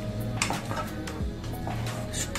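Semolina stirred dry in a pan with Kashmiri red chili powder, a utensil steadily scraping and clinking against the metal in a continuous close rhythm.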